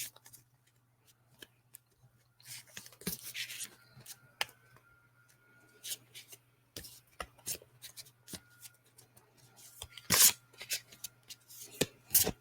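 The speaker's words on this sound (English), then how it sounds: "I'm shuffling some cards" A deck of playing cards being shuffled by hand, giving scattered soft riffling and rubbing bursts with sharper flicks near the end, fairly close and quiet over a steady low hum, with no talking.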